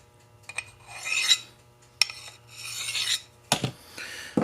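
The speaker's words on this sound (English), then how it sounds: "I'm just going to hit it with the honing rod here real quick." A knife edge drawn along a honing rod in three separate rasping strokes, each a gritty metallic scrape with a sharp tap at the start, close and clear with no talking.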